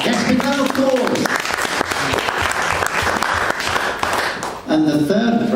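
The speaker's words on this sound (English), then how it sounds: "big round of applause" An audience at a poets' evening applauds a second-prize winner in a ticket draw, a loud sustained burst of clapping with cheerful voices calling out at the start and end.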